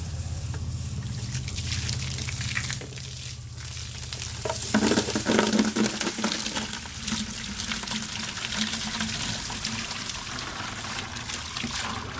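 Water washing leftover gold-mining sluice material down into a bucket during cleanup, a continuous close splashing and trickling with gritty rustle, swelling briefly in the middle, and no talking.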